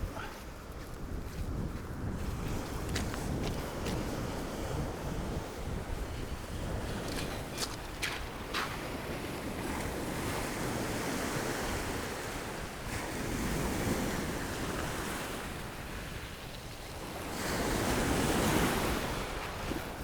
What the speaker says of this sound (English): I'll wait for the big wave to come